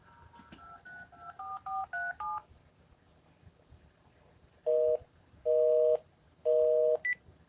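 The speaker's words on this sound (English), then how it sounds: "I'm going to call 1-800-2-DAGGER and see what the hell happens." Touch-tone dialing of 1-800-2-DAGGER: a quick run of about ten short dual-tone beeps, followed after a pause by three long, loud busy-signal tones and a brief final beep.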